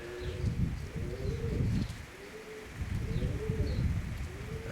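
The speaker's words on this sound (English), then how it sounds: "I think that's a pigeon." A pigeon coos in low, soft, repeated phrases with a few distant chirps, set against a steady outdoor background hiss.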